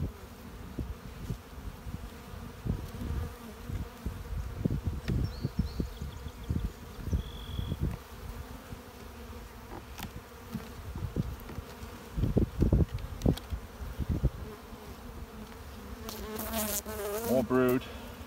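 Honey bees buzz around an open hive during a brood inspection, a continuous near hum with individual bees droning past the microphone, plus soft handling thumps and a brief clatter near the end.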